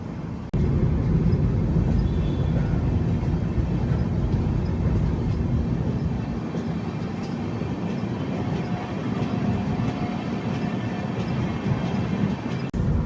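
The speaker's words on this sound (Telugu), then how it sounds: "అవుటర్ లో స్లో అయింది బండి." Pinakini Superfast Express rumbles steadily from onboard as it slows on the outer approach to Tenali Junction, a loud continuous low roar of wheels and carriage noise that eases slightly partway through.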